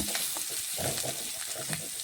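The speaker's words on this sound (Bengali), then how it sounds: "এদিকে দেখুন পেঁয়াজটা একটু নাড়াচাড়া করে দেখে নিচ্ছি ভাজা হয়ে গেছে" Onions fry in a wok (kadai) and are stirred, a soft close sizzle broken by several quick scraping strokes, quiet and without talk.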